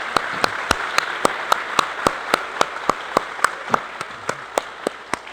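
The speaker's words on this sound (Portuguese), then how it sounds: "Uma salva de palmas." At a Sunday church service in Balneário Camboriú, the congregation claps in steady unison, about four sharp, evenly spaced beats per second over a soft murmur of the room, with no one speaking.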